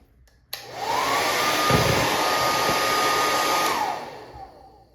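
Heat gun warming a plastic action figure part, switching on with a click into a loud steady blowing whir with a rising whine, then running down and cutting off after about three seconds.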